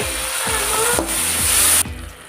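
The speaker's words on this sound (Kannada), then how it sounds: "ಸ್ವಲ್ಪ ಬ್ರೌನ್ ಕಲರ್ ಆದಮೇಲೆ ಟೊಮೊಟೊನ ಹಾಕೊಂಡು ಫ್ರೈ ಮಾಡ್ಕೊಳ್ಳಿ" Onions and tomatoes frying in a pan for egg rice, a steady close sizzle with occasional stirring scrapes that drops slightly near the end; no talking.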